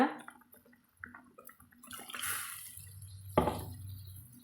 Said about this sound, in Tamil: இந்த அளவுக்கு தண்ணி சேர்த்திக்கிறேங்க